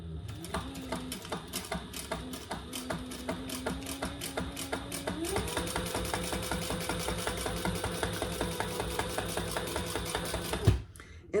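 A sewing machine stitches a clutch bag with black thread, its needle clattering in a fast, steady rhythm for about eleven seconds, the motor pitch rising partway through before it stops abruptly.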